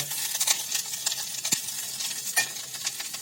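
A spoon stirs cabbage and carrot sambharo in hot oil with salt, turmeric and spices, a steady close sizzle with scraping strokes and an occasional clink against the pan.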